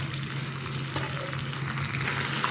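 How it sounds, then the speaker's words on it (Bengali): Spice masala with blended tomato stir-frying in a pan for chicken tikka, a steady close sizzle with a low hum underneath and faint scraping, no voices. "তো মশলাটাকে এখন আমি একটু ভালোভাবে কষিয়ে নিচ্ছি"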